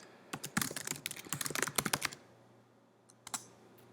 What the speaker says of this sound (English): So I type it in, I hit enter